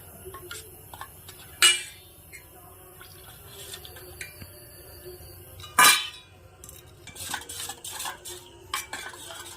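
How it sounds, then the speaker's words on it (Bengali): Semolina and cooled boiled milk are stirred into a batter in a bowl for an eggless steamed cake, with soft scraping, two sharp spoon-on-bowl clinks and clattering taps near the end, close by. "এই সুজিতে আমি এক বাটি দুধ দিয়ে একটা ব্যাটার তৈরি করে নেব"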